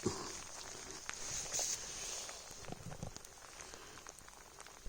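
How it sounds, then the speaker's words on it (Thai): Heavy rain falls in a forest during mushroom foraging, making a steady soft hiss with scattered drop patter and faint rustling close by. "ฝนตกแรงมากเลยนะคะ"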